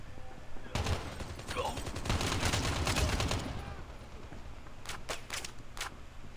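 Bursts of automatic gunfire from a Call of Duty Mobile match, ASM10 rifle play in Frontline mode, a dense rapid volley for several seconds, then a few sharp separate shots near the end.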